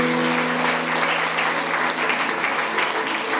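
A church congregation applauds during a sermon, a dense, steady wash of clapping filling the room throughout with no break.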